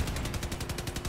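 Cannons fire in the vehicle combat game Crossout, a quick, even train of booming shots that pound on steadily across the whole moment, close and forceful.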